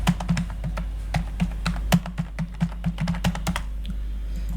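Someone types on a computer keyboard while filling in an online e-passport application form: irregular, close, crisp keystrokes over a steady low hum, slowing toward the end.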